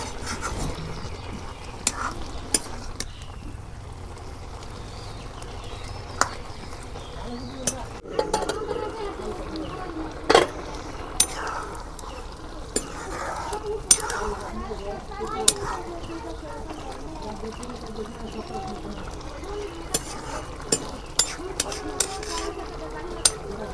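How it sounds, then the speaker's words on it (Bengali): Gourd greens curry with dried fish is sautéed in a pan, with a metal spatula scraping and clinking at irregular intervals over a soft sizzle, while a person talks throughout. "কষান ভালো করে করে নিই।"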